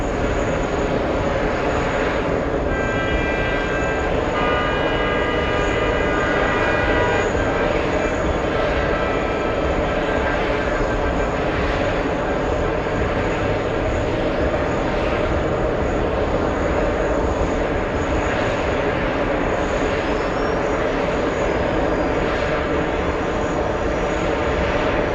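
A JetBlue Airbus airliner bound for Dublin takes off at JFK Airport in New York, a loud, steady engine roar that holds strong and close throughout with no talking.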